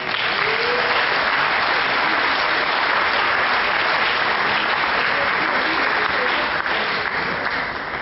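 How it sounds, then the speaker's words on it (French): An assembly audience at a closing gathering in Dax breaks into continuous applause, a thick, even roar of many hands clapping throughout. "On peut vous applaudir aussi"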